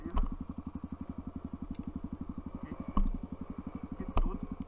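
An enduro motorcycle rides a small forest trail, its engine putting out a steady rapid pulsing chug at moderate volume, with a few sharp clatters and thumps from the rough ground.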